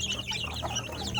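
Kampung hens clucking in a rooster-and-hen coop, a soft irregular run of close clucks with steady low background hum throughout.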